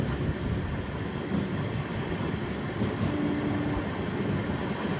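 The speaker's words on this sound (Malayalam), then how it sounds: "കടലിൻ്റെ ഇത്ര അടുത്തൂടെ തന്നെയാണ് ട്രെയിൻ പോകുന്നത്." A passenger train runs close beside the sea coast on the Rameswaram to Mangaluru Express route, a steady loud rolling rumble with faint rail clatter, continuous throughout and no talking.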